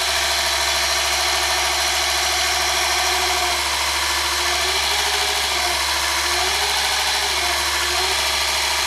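A micro electric belt grinder runs steadily at close range, a constant buzzing hum with a faintly wavering whine and no breaks throughout.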